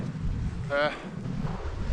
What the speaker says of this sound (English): Oh, quite windy up here.